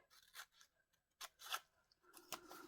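Scissors snip through folded paper to cut rose petal shapes, giving a few separate crisp cutting bursts, close and fairly quiet, with no talk.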